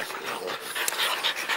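Several dogs pant steadily indoors in a home shared with 41 dogs, the breathy rapid panting close and continuous, with brief sharper bursts, and no talk over it.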